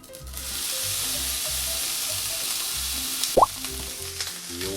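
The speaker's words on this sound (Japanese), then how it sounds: "でフライパン温まったらピーマン入れます。" Green peppers frying in a hot oiled pan give a loud, steady sizzle, with a brief clink of utensils near the end.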